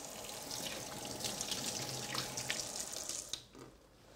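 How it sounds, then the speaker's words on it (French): Hot tap water runs steadily into a sink over the metal base of a terrine mould holding foie gras, a close continuous splashing hiss that shifts as the mould moves, then cuts off near the end. "Maintenant, je passe le fond de ma terrine sous l'eau chaude pour faciliter le démoulage, toujours."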